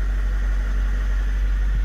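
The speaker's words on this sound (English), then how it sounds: "the first time I was able to rev up this engine so it actually works" A Mercedes car engine running after an accelerator pedal position sensor fault repair, a steady low droning hum with constant vibration and no distinct rise in pitch, heard close with no voices.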